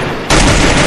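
Gunfire from a shooter video game, a dense loud burst of rapid shots that cuts in abruptly and fills the whole second.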